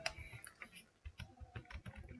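Computer keyboard keys are pressed several times during a real-time rendering demo, giving faint, scattered clicks and soft taps in quick succession with no talking.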